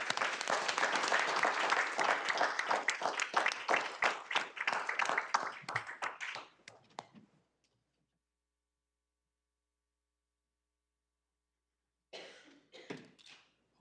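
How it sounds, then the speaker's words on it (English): Audience applause at a Board of Education business meeting, steady for several seconds, then thinning and dying out into silence, followed near the end by a few coughs or throat clearing. "let's give Mr. Thomas another round of applause"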